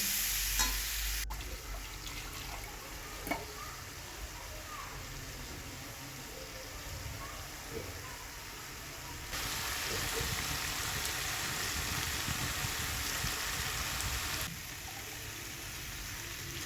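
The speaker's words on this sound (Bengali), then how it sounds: "এরপরে পেস্ট করা মশলাটা দিয়ে দিচ্ছি মশলাটাকে কিন্তু ভালো করে কষাতে হবে" Spice paste frying in a pan for a rohu fish curry with ridge gourd and potatoes, a steady low sizzle with occasional stirring scrapes, louder in a later stretch, and no talking.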